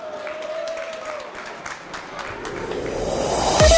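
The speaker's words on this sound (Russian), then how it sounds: "Бурные аплодисменты." Enthusiastic concert audience applause welcomes a chanson and variety singer onto the stage, a dense crackling roar that swells toward the end as a tone rises and a sharp sound cuts in.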